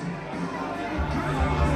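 Crowd noise from spectators at jousting at the Ohio Scottish Games, a steady broad roar of voices that swells slightly toward the end, with no distinct speech.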